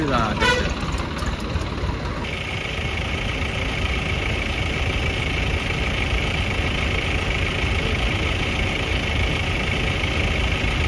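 A tractor engine idles steadily nearby, a continuous low rumble that runs throughout without pause.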